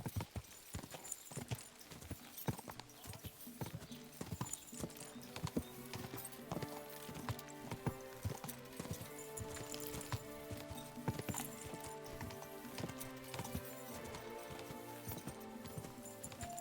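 Horse in a video game galloping, with a rapid, steady clip-clop of hooves over a musical score, and a neigh breaking in faintly.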